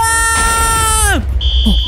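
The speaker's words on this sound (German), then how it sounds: "Der Alarm ist doch angegangen." An alarm sounds in a Minecraft game: a loud, sustained buzzing tone that bends downward and cuts off, followed by a brief higher beep.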